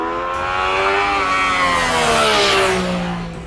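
A 2014 Yamaha FZ-09 motorcycle engine revs hard and climbs in pitch, a loud, close, continuous roar that rises and then eases off slightly.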